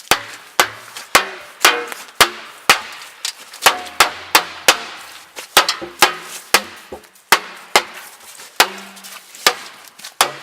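A metal lid being hammered down onto a steel barrel for making hardwood charcoal, a close, loud series of about two dozen sharp metallic blows in an uneven rhythm, each ringing briefly.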